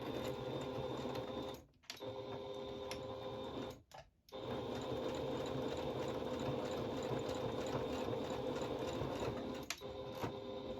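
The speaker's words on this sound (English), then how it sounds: "Now I'm just going to sew down the edges to secure the folds in place on the top of the fabric." A sewing machine stitches down the folded edges of a fabric face mask, running steadily and loudly with a whirring hum, pausing briefly twice before carrying on. No one speaks.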